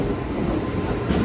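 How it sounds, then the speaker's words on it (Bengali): A local train pulling into a station, a steady low rumble and rolling rail noise filling the short stretch at close range, with no voices. "ওই যে লোকাল ট্রেন ঢুকে গেছে"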